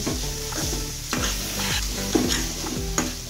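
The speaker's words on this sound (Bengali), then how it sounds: "আলুগুলো দিয়ে আমরা নেড়ে ছেড়ে দিলাম।" Spiced potatoes sizzle steadily in a hot pan while a utensil scrapes and stirs them in a loose, repeating rhythm, close and loud with no talking.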